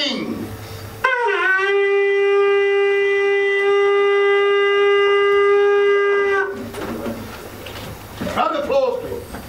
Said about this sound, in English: I will now blow my horn to summon the Goblin King.